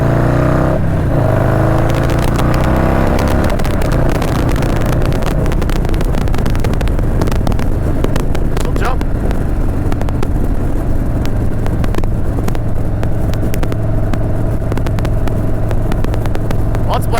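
A Stage II Harley-Davidson Softail Street Bob with FXR fairings rides along the road, its engine a steady low rumble mixed with heavy wind buffeting and road noise throughout.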